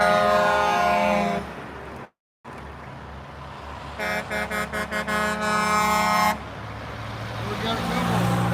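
A dump truck's air horns blast loud and close as it passes a convoy on a highway. A long sustained blare is followed by a set of rapid pulsing honks, then another held tone, all over steady traffic rumble.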